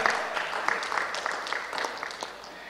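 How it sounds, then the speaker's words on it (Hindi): Applause at a civic summit conclave, where a room of attendees claps in a fairly sparse, uneven patter with distinct individual hand strikes, fading slightly toward the end. "जोरदार तालियां।"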